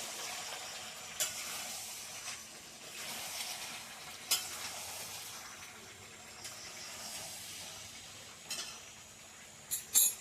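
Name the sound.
meat frying in oil for biryani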